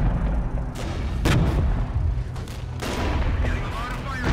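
Artillery barrage in the wargame Flashpoint Germany, with several booming impacts and rumbling blasts over a dense low background, and no talk.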